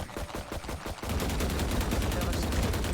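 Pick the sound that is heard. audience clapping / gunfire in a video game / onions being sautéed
gunfire in a video game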